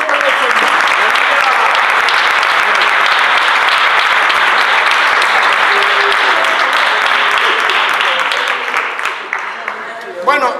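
A church congregation applauds warmly to welcome a woman named Rocío, a loud, dense wall of clapping that runs steadily for about nine seconds before tapering off, with a few voices mixed in.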